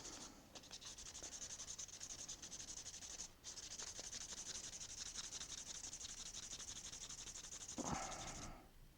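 Sandpaper wet-sands a model, producing a close, steady, faint rhythmic rubbing and scratching of strokes with a brief pause partway through and a short louder swipe near the end.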